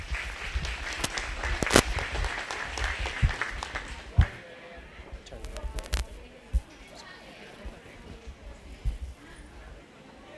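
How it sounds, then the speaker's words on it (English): Scattered applause from spectators at a 4-H/FFA goat show, loud at first and then thinning into sparse claps over crowd murmur in a large, echoing arena. "Let's go and give him a nice round of applause"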